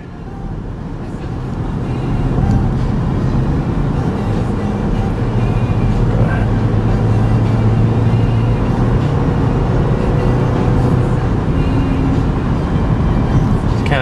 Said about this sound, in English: You can see we're doing highway speeds.